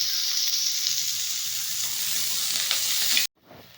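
Cumin, chopped garlic, ginger, onion and curry leaves frying in a pan for a traditional Indian gravy, a loud continuous hissing sizzle that holds steady and then stops abruptly, leaving a quieter tail.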